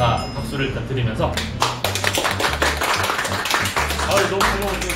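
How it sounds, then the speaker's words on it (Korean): Small group of people clapping in thanks at a galbi kimchi stew restaurant in Daejeon, brisk close applause mixed with chatter and voices talking over it. "찾아와 주신 모든 분들의 감사 박수를 드리면서"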